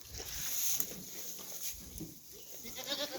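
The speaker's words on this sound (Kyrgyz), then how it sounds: "Мына 7 айлык текелер." Seven-month-old dairy billy goats on a farm, with faint bleating and shuffling livestock noise under a steady hiss, no voices.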